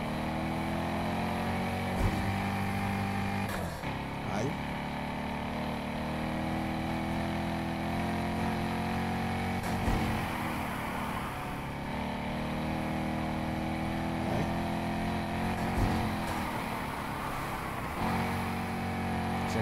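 A Chevrolet Corvette Grand Sport in the racing game Need for Speed Heat gives a sustained, rough engine roar with several brief dips and surges as gears shift, heard alone without talk.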